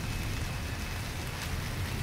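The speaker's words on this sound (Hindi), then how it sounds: "बारिश आ रही है।" Steady rain falls outside in a continuous, even hiss that stays at a moderate level throughout, with no gaps and no voices.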